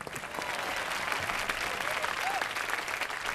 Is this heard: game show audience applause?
yes